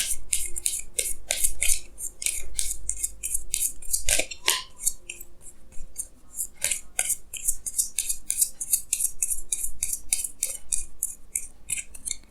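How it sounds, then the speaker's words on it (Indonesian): Tarot cards are drawn and shuffled from a deck, giving rapid crisp card flicks and papery snaps in irregular bursts, close up with no talking. "Jadi sini saya akan tarik lagi 2 kartu tambahan, ya."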